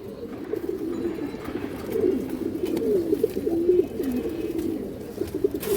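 A large, high-quality round-headed pigeon coos in repeated low rolling phrases, close and clear, rising and falling over a soft background hum with no voices.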